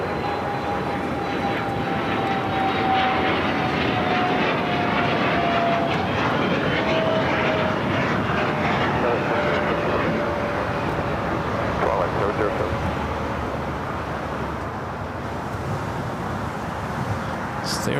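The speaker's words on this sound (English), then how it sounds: "watch that takeoff on the north side" A jet airliner taking off from the north side of LAX, a sustained roaring engine wash with a slowly falling whine, heard from a distance alongside faint background voices.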